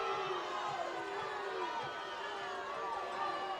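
Football crowd at a high school game reacting to a face-mask penalty call: a dense, distant wash of voices murmuring and booing, steady throughout.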